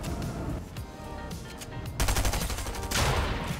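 Boom Sniper rifle shots in the Fortnite video game crack out in rapid bursts, loud and sharp among busy game sound effects.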